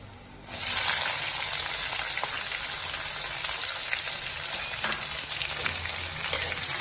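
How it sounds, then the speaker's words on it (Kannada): Capsicum hitting a hot pan of oil seasoned with curry leaves for vegetable fried avalakki, a loud steady sizzle and frying hiss starting abruptly after a brief quiet moment and continuing throughout with occasional crackles, no talking. "ಕ್ಯಾಪ್ಸಿಕಮ್ ಹಾಕ್ತಾ ಇದ್ದೀನಿ."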